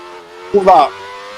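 A race car in a sim racing video game at the Belgian GP gives a brief, loud rising engine rev lasting under half a second, over a quiet background hum.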